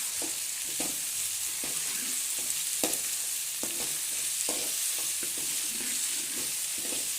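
Ingredients for bisi bele bath fry with salt in a pan, a constant close sizzle broken by repeated rhythmic scrapes and knocks of a spoon stirring.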